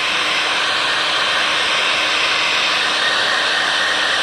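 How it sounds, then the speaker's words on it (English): Heat gun blowing hot air across faded plastic car bumper trim, a steady close broadband hiss and roar held evenly without pause or talk. "Keep the heat gun moving, because I think this thing is hot enough where it will definitely bubble this."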